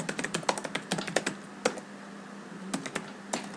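A command is typed on a computer keyboard in a networking router tutorial. A quick burst of close, crisp keystrokes comes first, then a pause, then a few more taps, with no speech.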